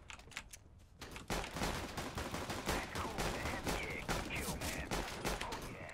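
Rapid gunfire in Counter-Strike: Global Offensive Arms Race mode, dense overlapping shots and bursts firing almost continuously after a lighter opening, loud and close.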